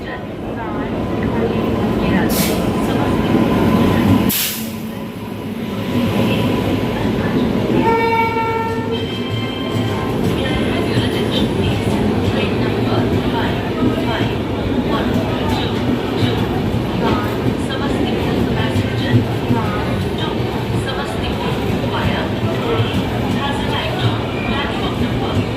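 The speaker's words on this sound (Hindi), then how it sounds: "आज हमारी ट्रेन 10 मिनट की देरी से पहुंची है" The Bihar Sampark Kranti Express rolls into Muzaffarpur railway station, its loud rumbling and clattering wheels continuing throughout, with a short horn blast early on and a voice speaking over the noise.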